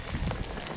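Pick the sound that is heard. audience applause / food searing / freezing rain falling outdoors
freezing rain falling outdoors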